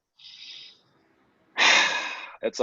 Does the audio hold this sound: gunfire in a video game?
no